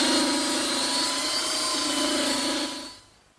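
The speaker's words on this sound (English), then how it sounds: "I like to use a slightly smaller belt sander to do these edges" A small handheld belt sander works the edges of a wooden chair-table top, giving a steady loud whine and motor drone that stops about half a second before the end.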